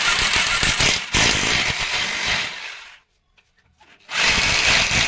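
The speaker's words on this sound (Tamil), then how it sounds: "சிக்ஸ் எம் பிட்டை வச்சு நீங்கள் ட்ரில்லிங் போட்டுக்கோங்க" A power drill with a 6 mm bit whines loudly and steadily for a few seconds while drilling a hole to install a toilet flush tank, stops briefly in near silence, then starts up again, close by.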